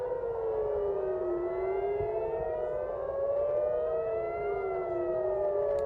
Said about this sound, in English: Again, I'm hearing sirens.